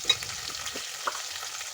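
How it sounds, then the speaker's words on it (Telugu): Onions fry in oil in a pan for a Telugu okra pulusu, giving a soft steady sizzle with a couple of brief spoon scrapes and knocks as they are stirred. "ఆనియన్స్ వేసుకొని మంచిగా ఫ్రై చేసుకోవాలి"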